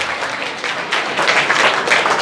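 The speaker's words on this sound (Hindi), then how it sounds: "चलिए सारे बच्चे अपने लिए जोरदार तालियां बजा दीजिए" Children in a group class in Vishwas Nagar, Delhi, clap for themselves. The clapping is loud, dense and continuous, builds slightly toward the end, and carries no talking.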